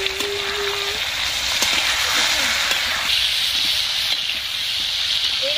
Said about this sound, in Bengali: লাল লাল করে ভেজে নেব কপিগুলো।